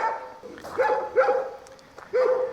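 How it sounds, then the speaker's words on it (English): A few short, high-pitched yips and barks from dogs sound at moderate distance near horse stables and an exercise arena, spaced irregularly with quieter gaps between. "try and get away from the dogs and the noise"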